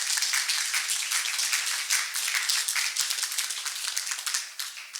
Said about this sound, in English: if you want to give them a big applause.